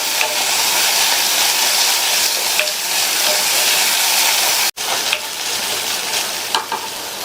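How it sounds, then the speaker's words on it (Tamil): Small diced tomatoes sautéing with onion and ginger-garlic paste in a hot pan, a steady loud sizzle with stirring scrapes throughout, one brief break near the end, no voices. "இந்த தக்காளியையும் லைட்டா 1 நிமிஷத்துக்கு வதக்கி விட்டுக்கலாம்"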